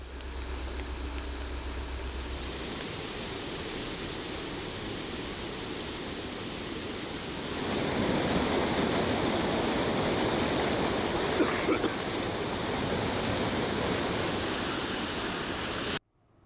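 Steady broadband rushing of a swollen river in Armenia's Lori or Tavush region after heavy rainfall, a continuous roar that grows louder partway through and carries on without voices.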